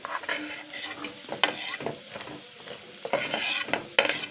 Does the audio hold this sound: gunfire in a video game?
no